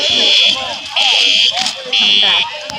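Siemens UMMT school fire alarm sounding in loud, evenly spaced buzzing blasts of about half a second, with voices talking underneath between and during the tones.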